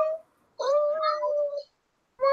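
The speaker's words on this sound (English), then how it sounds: "I heard me a cat." A house cat meows in two drawn-out, talkative calls with a gap between them, close by and fairly quiet in an otherwise still room.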